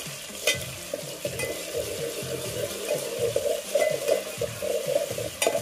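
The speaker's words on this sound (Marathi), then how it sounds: "कढीपत्ता जर तेलात आपण व्यवस्थित भाजून घेतला" Curry leaves crackle and sizzle steadily in hot oil in a pan while cooking a Konkan-style cashew curry, with a continuous close frying hiss and occasional stirring scrapes, no voices.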